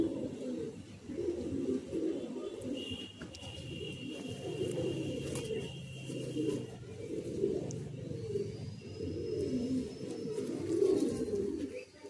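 Madrasi pigeons from Andhra Pradesh coo steadily in a loft, a continuous low murmur of overlapping calls close by, with faint ambient noise.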